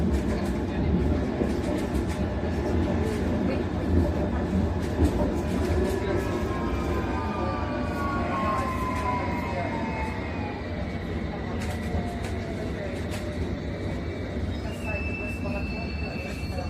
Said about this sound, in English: This is a Hammersmith City Line train to Barking.